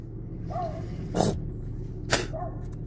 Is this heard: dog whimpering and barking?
yes